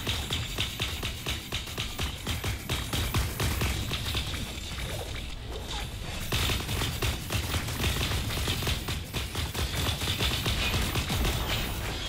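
Rapid automatic gunfire rattles on and off in a video game team deathmatch, dense continuous bursts of fast shots with mechanical game effects, fairly loud and steady.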